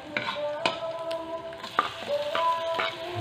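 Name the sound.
sautéing garlic and onion in a pan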